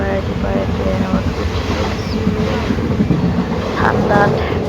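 A passenger train on a cold morning ride gives a steady, loud rumble and rattle of the carriage that runs throughout, with wind buffeting the microphone.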